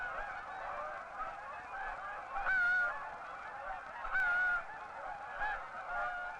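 Canada geese honking as a flock lands near the Gulf in mild winter weather, with a steady chorus of overlapping nasal honks and a few louder calls standing out at intervals.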